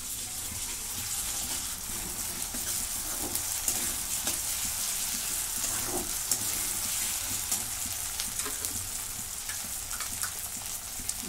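Onion and ginger-garlic paste frying in a pan, a steady close sizzle with faint stirring scrapes and no voices, cooking for a steamed cauliflower vegetable dish.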